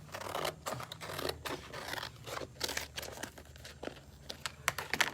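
Scissors trimming material on a Dollar Tree decor piece, a run of quick, quiet snips and crinkly rustles at close range, with no voices.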